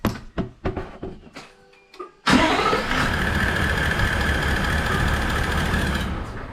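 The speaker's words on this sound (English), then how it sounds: "So I'm just going to crank the truck up." A Toyota Land Cruiser 79 Series V8 truck engine with a dual battery setup cranks with a few clicking turns, then catches and roars into a steady, loud idle close by.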